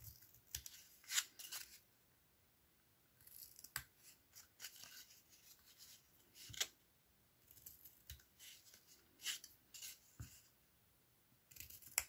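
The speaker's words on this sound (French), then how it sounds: "On va juste venir couper en biseau les extrémités." Scissors snipping the ends of paper at an angle for a handmade craft box, giving quiet, close, sharp cuts that come in scattered clusters with gaps of handling noise between them.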